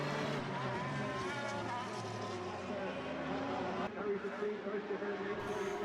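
Formula BOSS race cars racing on the Zandvoort circuit in Ireland's 2021 series, a continuous high engine whine with shifting pitch under a steady commentator's voice.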